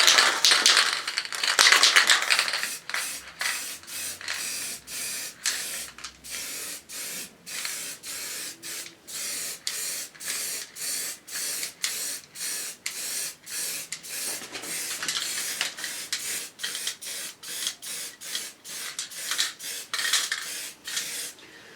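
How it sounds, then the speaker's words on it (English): Guide coat is spray-painted onto a Triumph bash plate in damp, cold conditions: close, hissing aerosol bursts repeat in a quick, steady rhythm of short sprays with brief gaps, and nobody speaks. "This paint isn't atomising very well because it's so damp and it's quite cold, but it's good enough, it's going on."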